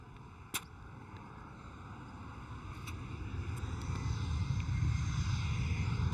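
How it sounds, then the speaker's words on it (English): An Embraer E190 airliner departing Amsterdam Schiphol builds from a distant engine hum into a louder, rising roar as it moves off. A sharp click stands out early on, and the engine noise swells steadily toward the end. "the E190 is departing"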